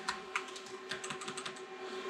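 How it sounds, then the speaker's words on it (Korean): Quick, irregular clicks of a computer keyboard being typed on, faint and close, in a room with a steady hum from an ASIC crypto-mining rig. "제대로 타자를 칠 수가 없네요."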